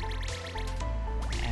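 Random bubbling and dripping water from an erratic little whirlpool in the video game Cave Story, a continuous liquid burble over game music, with no talking.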